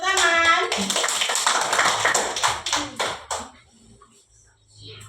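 Children clapping in a classroom, a brisk burst of rhythmic claps lasting a few seconds with a voice at the start, then fading to quiet.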